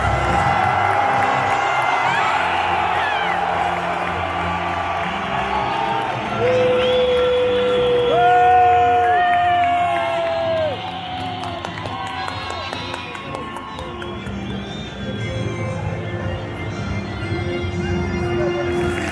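A large stadium crowd at a football match cheers and applauds as the Colombian national anthem plays, a dense continuous roar with whoops and rising shouts, an announcer's voice heard over it.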